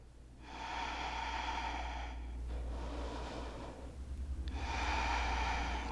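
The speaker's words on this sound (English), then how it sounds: "Just taking, again, a few more breaths here." Slow, audible breaths during a yoga stretch, with a long airy inhale followed by an exhale and another deep inhale, all close and quiet against a low room hum.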